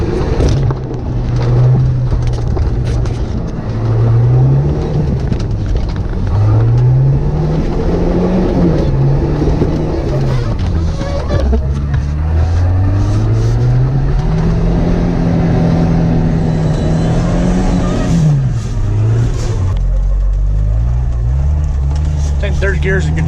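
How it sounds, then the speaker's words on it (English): Jeep TJ engine pulling in third gear through snow, a steady low drone that rises and falls with throttle over the whole stretch, close and loud, with talk over it at times. "Third gear is a good gear to go in for snow drifting."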